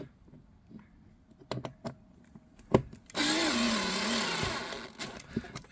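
A short whirring burst of a power tool driving a bolt into a Thunder XC BC1 gaming chair, rising steadily for about two seconds amid scattered clicks and handling knocks before and after.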